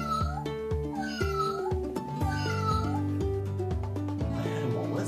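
A voice imitates a cat, giving several drawn-out meows in a row, close and clear over a bed of soft instrumental music.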